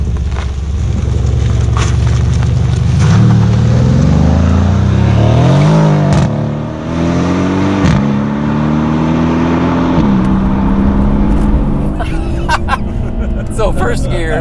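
An AMG car engine revs hard and accelerates, a loud, sustained roar climbing in pitch through the gears with brief dips between, close up and dominating throughout.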